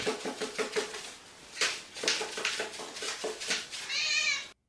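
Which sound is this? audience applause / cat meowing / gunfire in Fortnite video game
cat meowing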